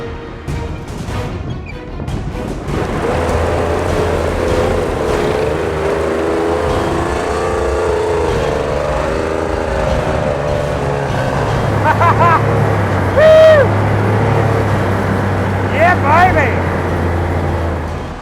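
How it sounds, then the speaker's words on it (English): A heavy WW2 army pickup truck's engine labours uphill under load, a steady low drone running throughout, close and loud, with a voice talking over it. "The poor engine is really working hard because these things weigh so much."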